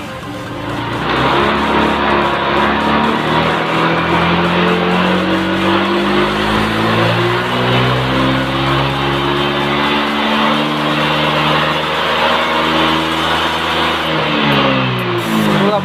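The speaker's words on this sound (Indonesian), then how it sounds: "Kita mau kembang gas ya" A Honda Vario 125 scooter with a remapped ECU revs hard and steadily up close, its engine climbing in pitch through a long sustained pull before easing off.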